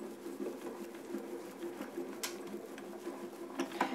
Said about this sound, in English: I'm going to run this through the grand caliber and do the first half.